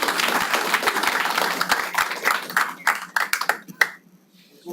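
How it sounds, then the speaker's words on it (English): A small crowd at a meetup event claps with fairly dense applause that thins into scattered individual claps and fades near the end. "Give them a quick round of applause."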